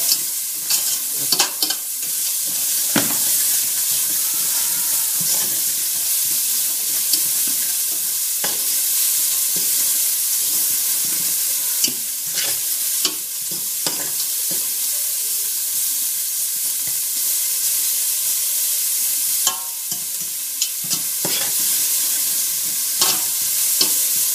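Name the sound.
sausages frying in fat in a pan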